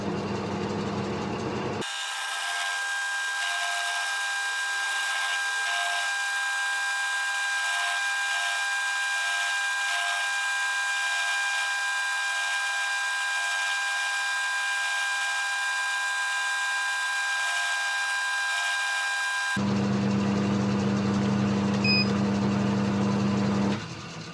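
A milling machine fitted with an 11/16 cutter cuts into metal, a steady high-pitched whine with a bright ringing tone that holds for about eighteen seconds before stopping, with no voices.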